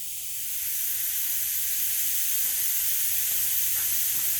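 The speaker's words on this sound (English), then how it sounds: "I'll turn the compressor on and you can watch the wastegate move" Steady compressed air hissing through a three-port Mac boost control valve to a turbo wastegate diaphragm, a broad continuous rush with faint clicks near the end and no talking.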